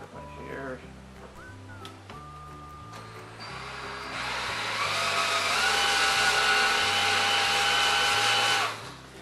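A power drill whirs steadily for several seconds, rising in pitch as a smaller bit bores guide holes during a wire mesh gate installation, then stops abruptly; close and fairly loud.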